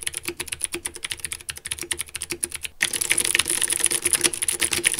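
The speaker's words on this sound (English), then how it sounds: "this blue switch is commonly known as a clicky switch. So when pressing a key, you will feel a strong bump and hear a loud click." Fast typing on a mechanical keyboard with blue clicky switches gives sharp, loud, rapid clicks in a dense patter, with a brief pause before a busier burst of keystrokes.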